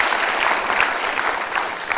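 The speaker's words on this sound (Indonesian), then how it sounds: "Kita beri tepuk tangan Bang Ara." A television studio audience at a political talk-show debate breaks into loud, sustained clapping that fills the room evenly.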